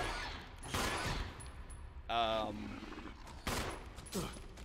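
Gunfire in the Resident Evil remake video game: a few sharp shots in separate bursts, with talk heard between them.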